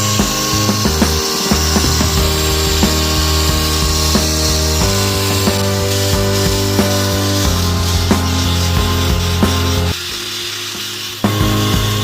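Finer sandpaper works over a foggy headlight lens on a 2006 Toyota Prius, a steady loud abrasive grinding with a motor-like hum, close and continuous, cutting off briefly near the end.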